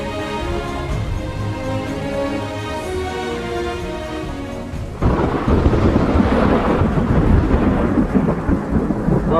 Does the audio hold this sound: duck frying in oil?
no